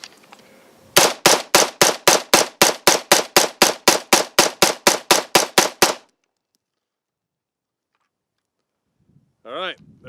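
A gun fires a full magazine of Tula ammunition: about twenty sharp, loud shots in a steady, rapid rhythm over roughly five seconds, then silence, with a brief voice near the end.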